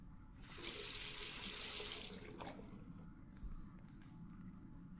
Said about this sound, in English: All that remains is to rinse the plate.